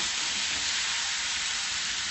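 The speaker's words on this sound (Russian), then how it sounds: "Курица жарится." Chicken frying in a pan gives a steady, even sizzle, a close hiss with no voices during the short stretch.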